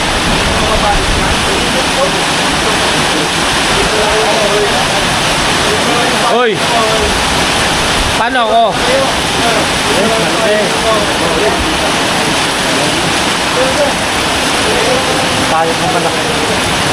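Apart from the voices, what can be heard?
heavy rain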